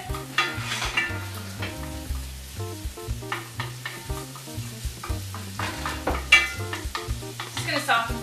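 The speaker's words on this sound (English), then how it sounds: "saute for a minute. Stir this around a bit." Vegetables sautéing in melted butter in a pan, stirred with a steady sizzle and scraping strokes that swell and fade, all under a continuous tonal background.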